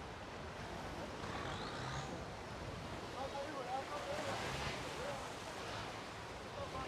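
Rough sea waves wash and churn around a boat near the Phi Phi Islands in Thailand, a faint, steady rush of surf and wind noise with soft splashes and no clear breaks.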